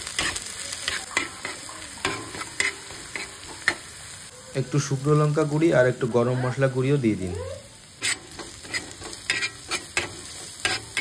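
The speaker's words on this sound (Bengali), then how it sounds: "তারপরে পরিমাণ মতন লবণ দিয়ে একটু ভালো করে ভাজতে থাকুন।" Chopped onion, green chilli and salt fry in oil in a pan with a steady low sizzle and occasional stirring scrapes, while someone talks over it at length.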